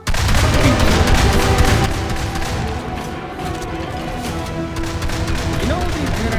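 Rapid gunfire in the video game Chimeraland, a dense loud burst of shots at the start that thins into scattered, quieter firing with game effects.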